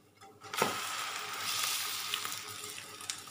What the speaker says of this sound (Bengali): এভাবে চেপে চেপে বেশ কিছুক্ষণ সময় ভেজে নেব।